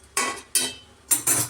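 A lid is set over cupcake cups inside a cooking pot: four quick metallic clatters and scrapes in two pairs, loud and close, with brief ringing after each.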